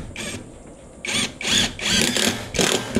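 Inexpensive cordless drills drive fasteners to secure clips on plastic decking, heard as several short whirring bursts close by with brief pauses between them and no talking.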